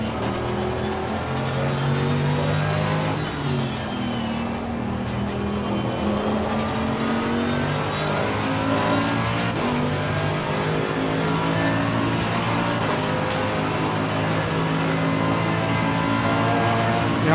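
GT3 race car on the Nürburgring GP circuit in Assetto Corsa Competizione, engine droning steadily at high revs with rising and falling pitch through gear changes, loud and continuous with no voices.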